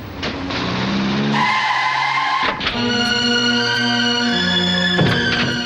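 In a dubbed Indian film scene, a car brakes hard and stops: loud, close tire squeals sound in several sharp screeching bursts over an engine, with no talk.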